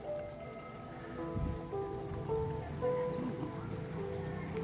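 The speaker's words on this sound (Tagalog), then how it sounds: "Lakas ng patak na ulan," Heavy rain patters steadily on a surface at a wide highland valley, with a dense hiss throughout and talking faintly underneath.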